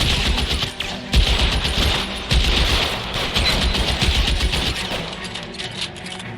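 Gunfire in the video game LA Noire: rapid bursts of close, loud shots, some in quick volleys and others spaced apart, over a rumbling game backdrop.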